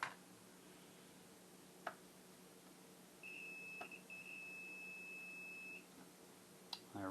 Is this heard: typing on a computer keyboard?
no